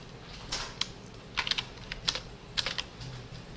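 Computer keyboard typing during coding work, a quiet run of separate key taps in small clusters, close and clear over a faint background hiss.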